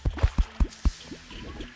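Water flows in the video game Terraria, heard as a quick run of five wet dripping plops followed by fainter bubbling and gurgling, with no talking.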